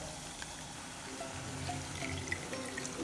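Tamarind water is poured into a simmering Nagercoil-style tomato curry (thakkali kulambu) containing coconut, giving a soft, steady liquid pour and trickle against a low background hiss throughout, with no talking.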